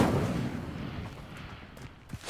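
Incendio fire spell cast in Hogwarts Legacy, a burst of flaring rumble that quickly decays into a fainter crackle with a small pop near the end.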